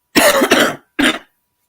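Two close, loud coughs, a longer double hack followed by a shorter one, then silence.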